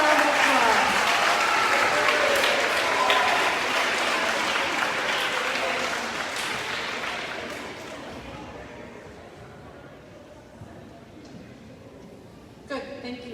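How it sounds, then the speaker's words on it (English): Audience applauding at a middle school 7th and 8th grade awards program, loud sustained clapping that gradually fades away, followed by a few seconds of near quiet. "So give them all a round of applause."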